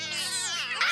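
Cartoon kittens meow continuously in a high, wavering chorus, close and loud, with several overlapping cries rising in pitch near the end.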